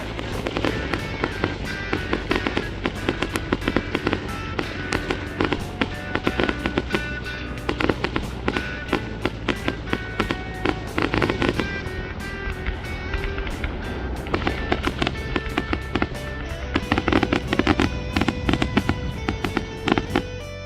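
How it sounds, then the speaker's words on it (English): Fireworks pop and crackle continuously at the close of a fair, in dense, rapid bursts, loud and close, with booming thuds layered under sharp cracks. "when the fair is over, the fireworks begin."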